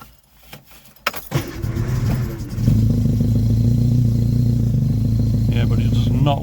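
A rebuilt BMC A-series car engine cranks briefly, then catches with the choke out and settles into a loud, steady, close-up idle that holds without revving up.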